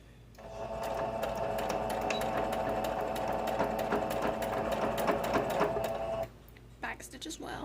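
A sewing machine runs steadily for several seconds, stitching along the edge of a tote bag strap sewn from fat quarter fabric, with a dense rapid needle rhythm that stops abruptly near the end before a few short bursts.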